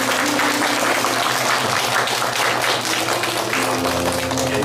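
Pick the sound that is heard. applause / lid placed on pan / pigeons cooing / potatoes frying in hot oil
applause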